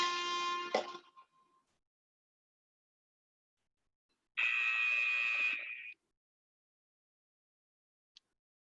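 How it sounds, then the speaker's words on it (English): A workout interval timer sounds two loud, harsh electronic buzzes, first a short blast that cuts off abruptly, then after a few seconds of silence a longer, steady one, followed by a faint click near the end. "When you hear that next buzzer, be switching to the other side."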